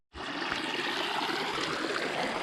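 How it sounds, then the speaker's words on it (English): The Sava River in Slovenia rushes steadily nearby, a continuous loud broadband wash of flowing water with no pauses and no voices. "And that's the Sava River right there."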